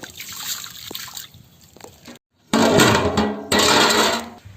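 Water boiling in a large pot for whole goat biryani outdoors, bubbling and gurgling close by, interrupted by a brief silence and then louder bursts of rolling boil.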